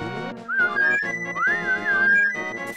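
A melodic whistle tune from The Legend of Zelda: A Link to the Past plays clearly, with wavering sustained notes over a soft game background and no talk.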